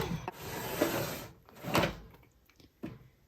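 A makeup storage drawer holding highlighters is pulled open, giving quiet, close sliding and rubbing scrapes in a few short strokes, followed by a soft knock.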